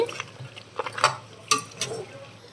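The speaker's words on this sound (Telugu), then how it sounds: "ఉల్లిపాయ పేస్ట్ వేసేసుకుందాం పచ్చివాసన పోయే వరకు ఫ్రై చేసుకుందామండి" Onion paste cooks in a pan as a soft sizzle under scattered stirring scrapes and light clinks from a spoon against the pan, with a few sharper knocks.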